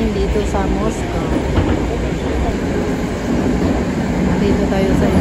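Riding inside a moving Moscow metro train: a loud, continuous rumble with rhythmic rail clatter and a faint high squeal of wheels. A voice talks over the noise throughout.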